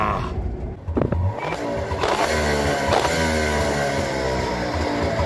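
A Wartburg 353 S with a two-stroke engine cranks and fires up, then settles into a loud, close, raspy running idle with a steady buzzing pulse that continues without talk.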